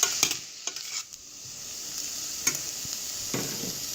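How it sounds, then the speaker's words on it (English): Onions and bacon sizzle in a pot for potato soup while a utensil stirs, with sharp scraping strokes recurring over a steady frying hiss; no voices. "And then just keep stirring and sauteing your onions."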